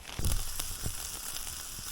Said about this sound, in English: Sizzling up. Flame Kiss brats.